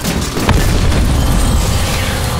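Stun grenade blast in Call of Duty Cold War Zombies: a loud, dense boom with a sharp crack near the start, then a sustained rumbling roar, close and alone.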